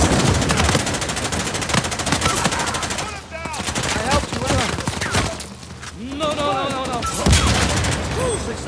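Rapid gunshots in an Uncharted 4 multiplayer Bounty Hunter match, dense bursts of fire at the start easing into scattered shots, with a player talking over the action.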